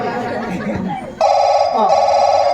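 A telephone rings loudly in a steady electronic ring that comes in partway through, set amid a rowdy Dangi tamasha folk performance, with voices chattering beneath and around it.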